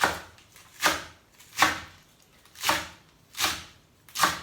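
Knife slicing endive and parsley into thin strips on a board, six crisp cutting strokes spaced about every three-quarters of a second, each ending in a sharp thud, close up with no talking.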